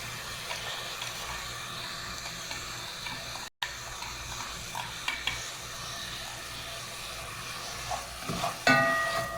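A spoon stirs chicken and cauliflower (gobi) frying in a pan, giving a steady low sizzle with scraping, fairly continuous and even, with a short gap and a brief louder clatter near the end; nobody talks.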